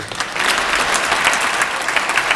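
A state legislature applauds during a State of the State address, a dense, steady wash of clapping from many hands filling the chamber throughout.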